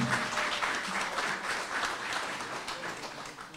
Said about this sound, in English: Let's give them a round of applause for all that they do for our county.